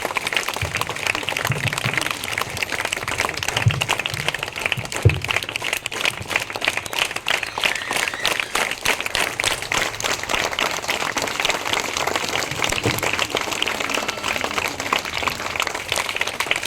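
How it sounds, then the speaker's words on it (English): At a school event, children and staff applaud the leading lines team receiving a trophy, loud continuous clapping from a crowd sustained for a long stretch with a few low thumps underneath. "Give them huge round of applause for leading lines team members."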